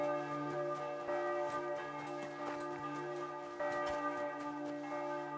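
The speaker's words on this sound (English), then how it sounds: "your bells are loud" Church bells peal at midday in the video game Kingdom Come Deliverance II, a loud, steady ringing with layered sustained tones and repeated strikes throughout.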